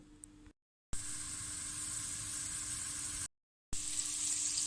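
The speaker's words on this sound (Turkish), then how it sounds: "1 adet orta boy kuru soğanı doğrayalım ve kavuralım" Continuous crackling sizzle of chopped onion sautéing in hot oil, fairly close, briefly interrupted by two short gaps of silence.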